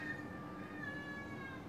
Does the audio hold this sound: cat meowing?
yes